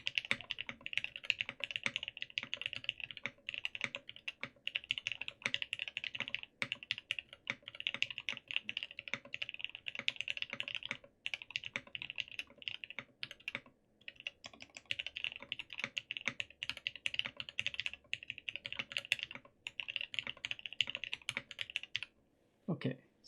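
Steady, continuous typing on a Geonworks Frog mechanical keyboard, close and clear, with a few brief pauses and a low background hum; a voice speaks briefly at the very end.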